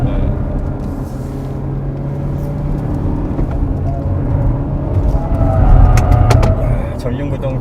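Inside a front-wheel-drive Renault Samsung XM3 taking a series of consecutive corners, a steady low engine drone and road rumble fill the cabin, swelling slightly as the car accelerates out of the bends.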